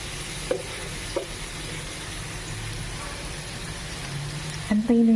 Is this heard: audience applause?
no